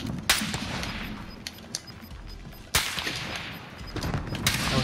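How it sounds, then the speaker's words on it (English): Sniper rifle shots in Call of Duty Warzone, two sharp loud cracks a few seconds apart over a steady background of game ambience and scattered smaller impacts. "Getting sniped at from the building across the street"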